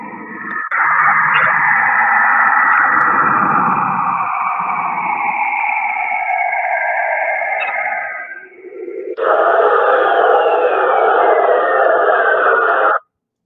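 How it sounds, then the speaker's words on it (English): A sonified rendering of the Moon's frequencies: a steady, eerie synthetic drone with sweeping tones plays loud and unbroken, dips briefly, then returns brighter and fuller before cutting off. "And this is the sound of the moon right here."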